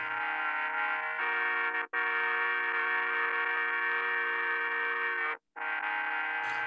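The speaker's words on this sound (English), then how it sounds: "So you hear all those crazy dropouts." Drums and synths run through a Generation Loss MkII lo-fi pedal, a sustained warbling tone that cuts out abruptly twice in short dropouts before resuming, loud and alone.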